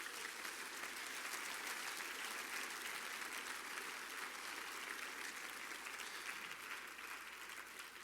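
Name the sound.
church congregation applause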